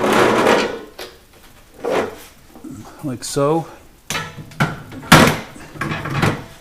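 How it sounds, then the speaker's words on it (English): Drawers are slid and set back into a Sub-Zero 700TCI-2 refrigerator, giving several hollow knocks and rattling clunks spread irregularly, with a brief spoken remark in between. "to finish this project, we're going to put the drawers back in"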